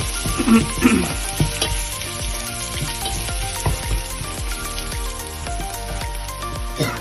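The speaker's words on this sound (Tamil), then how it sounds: "வெந்தயம், 1/2 தேக்கரண்டி பெருஞ்சீரகம், வெட்டி வச்ச செத்தல் மிளகாய் எல்லாம் போட்டு அதையும் நல்லா வதக்குவோம்" Fenugreek seeds, fennel seeds and chopped dried red chillies frying in hot oil, an intense crackling sizzle with frequent stirring clatters throughout.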